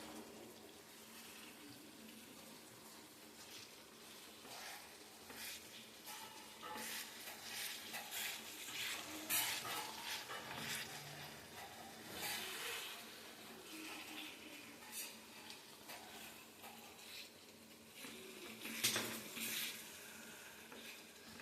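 Food being stirred and mixed in a pan, producing soft scraping and sizzling sounds against a steady watery hiss, fairly quiet and without talk.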